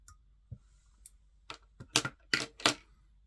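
Small scissors trimming fly-tying material for a snipe and purple spider fly, a handful of sharp, close snips, sparse at first and then quicker, in an otherwise quiet room.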